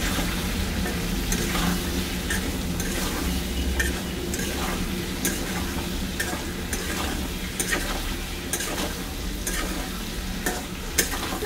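Potato pieces fry with turmeric and salt in a pan for a fish curry with potato: a steady close sizzle runs throughout, broken by repeated scraping stirs and light clinks, with no talking.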